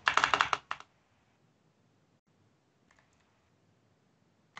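Quick typing on a computer keyboard: a short, dense burst of close clicks under a second long, then near silence with a couple of faint stray taps.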